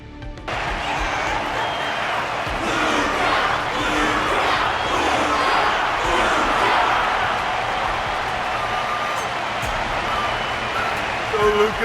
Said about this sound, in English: The constant applause is a salute to this resilient Belabogian fighter.